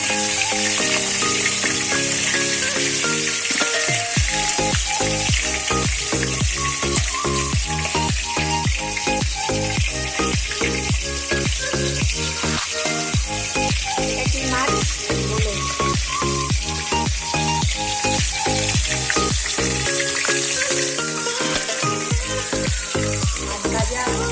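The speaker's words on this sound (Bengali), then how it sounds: "নিয়েছি আর দিয়েছি পেঁয়াজ কাঁচা লঙ্কা কুচিয়েছি ভাজবো" Chopped onion and green chilli fry in a pan with a loud, continuous sizzle close up, broken by brief scraping stirs and occasional watery crackles throughout.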